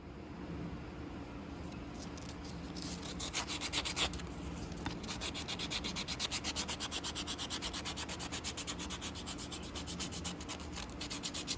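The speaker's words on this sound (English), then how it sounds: "you can start a little bit of sanding" Steady rhythmic sanding on a wooden slingshot cut from a tree fork, a raspy scratching that repeats in quick back-and-forth strokes, close and continuous.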